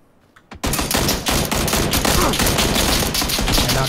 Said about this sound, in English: I think they're shooting us from like underneath it